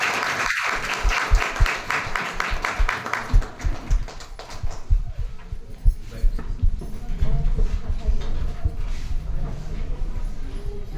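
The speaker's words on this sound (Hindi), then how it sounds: "खड़े होकर के जोरदार तालियों के बीच में मंच पर आमंत्रित करना चाहेंगे" Loud, sustained standing applause from a large crowd at a public stage event in India, steady clapping continuing throughout with a few voices underneath.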